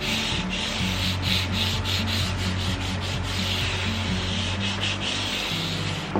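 Sanding a wooden electric guitar fretboard to a finer, scratch-free finish, a steady continuous rubbing rasp close by with rhythmic strokes and no talking.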